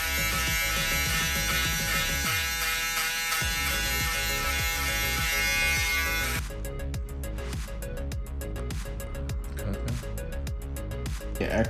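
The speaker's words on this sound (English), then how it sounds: "I'll use my shaver upside down and I'll go against those lines to get those out." An electric shaver, held upside down during a skin fade haircut, buzzes steadily and close, its tone shifting partway through as the cutter moves against hair, with rapid clicking texture in the second half.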